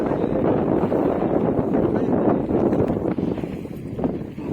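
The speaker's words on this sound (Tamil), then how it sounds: "வீசினே இருக்குது காற்று" Strong, steady wind blows across the microphone in a parked or moving lorry hauling salt from Thoothukudi to Hyderabad, a loud continuous rushing roar that fills the whole stretch.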